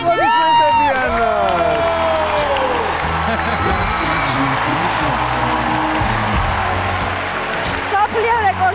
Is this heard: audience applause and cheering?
yes